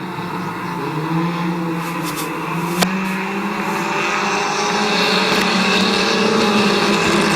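Compact race cars racing at Midvale Speedway in 2013, a loud continuous roar of several engines droning and shifting pitch as they pass, with a sharp crack partway through.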